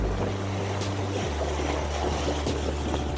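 A boat pushes through waves at a little over five knots, its engine droning low and steady under wind and the wash of water, close and continuous.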